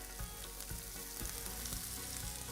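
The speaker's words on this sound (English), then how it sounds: "very quickly as they sizzle up, chuck in the chopped onions" Cumin seeds and chopped onions hit hot oil for paneer bhurji, giving a loud, steady sizzle with a few stirring scrapes and no talk.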